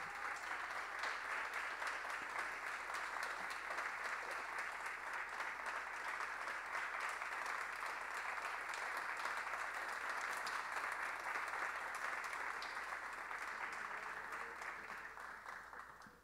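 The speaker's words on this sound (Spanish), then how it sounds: "aplausos hacia estos jóvenes talentos." An audience at a state music composition award ceremony applauds young winners in a long, dense, steady burst of clapping that fades toward the end.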